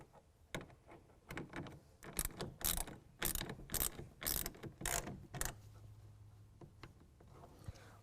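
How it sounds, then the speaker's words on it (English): A 9/16 ratchet tightens a bolt on a tonneau cover rail of a 2017 Ford F-150, a series of close clicking ratchet strokes in irregular bursts, then quieter handling noise. "we're going to take a 9/16 wrench or ratchet, and we're going to tighten that down"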